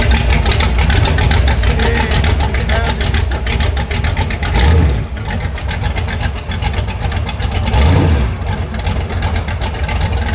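A 420cc Harbor Freight Predator gasoline engine on a go-kart runs loudly and close, rattling steadily with two brief revs that rise and fall.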